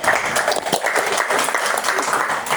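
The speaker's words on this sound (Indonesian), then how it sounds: "beri tepuk tangan" A group applauds during a teaching performance assessment for Islamic religious education teachers, giving a dense, steady round of clapping that holds at an even level from start to finish, with no voices over it.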